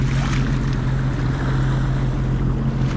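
A Sea-Doo personal watercraft cruises over open sea water, its engine a steady loud drone with a low tonal hum, mixed with rushing water and wind buffeting the microphone throughout.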